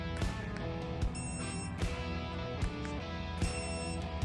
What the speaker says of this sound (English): If you click on that, the collar beeps.